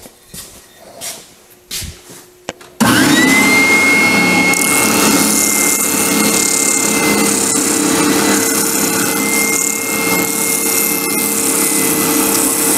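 A wooden hammer handle is smoothed with a power tool, a steady loud abrasive whir running continuously after a few quiet knocks and handling sounds at the start.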